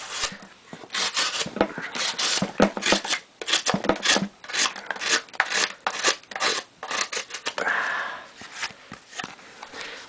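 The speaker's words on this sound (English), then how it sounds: "Let's try to get some fine slices so I can really test this edge." A custom knife slices thin strips, probably through cardboard, in a quick run of close, dry rasping cuts with short pauses between strokes.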